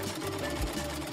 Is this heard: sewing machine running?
yes